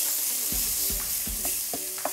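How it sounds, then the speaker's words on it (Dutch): Leek and garlic sauté gently in a very small amount of oil, a soft continuous sizzle broken by several stirring scrapes of a utensil against the pan, close and with no talking. "Ik ga nu de prei en de look aanstoven in een heel klein beetje olie."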